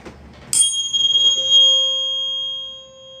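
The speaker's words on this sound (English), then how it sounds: "This tuning fork is 528 hertz." A 528 hertz tuning fork is struck once and rings with a bright, clear, sustained tone that slowly fades over a few seconds, close and alone.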